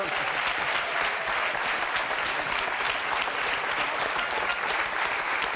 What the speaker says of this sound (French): Patricia Erwan, que l'on peut applaudir fort